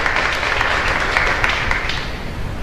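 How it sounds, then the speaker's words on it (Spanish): A crowd applauds at a Mass in a chapel in Luque, with steady, dense clapping throughout, moderately loud and sustained without pause. "Vamos a darle un fuerte aplauso"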